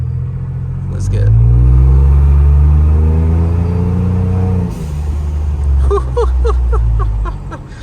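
Ford Bronco with the 2.7L engine and Flowmaster exhaust revs up into a loud, deep drone that holds for a few seconds and then drops back to a rumbling idle, close by, with faint voices near the end.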